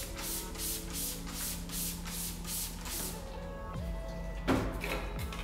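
Repeated hissing bursts of a spray bottle misting a Raffaello stucco wall surface during a Napoli finish, several regular pulses close up, then quieter scraping and a light knock.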